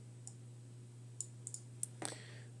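Soft, isolated computer mouse clicks tick at irregular intervals, faint against a constant low hum, with a quick double click near the end.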